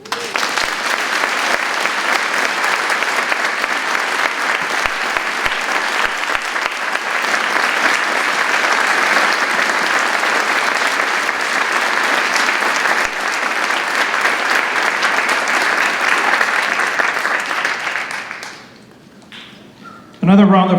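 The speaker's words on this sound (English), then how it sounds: "Another round of applause to all the winners" Audience at a Veterans Day ceremony gives the winners sustained loud applause, a dense even roar of clapping for about eighteen seconds that fades out near the end, followed by a brief burst of other sound.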